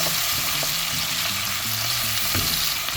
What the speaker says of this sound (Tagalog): Igisa ko na po yung sardinas habang kukuluan natin yung noodles.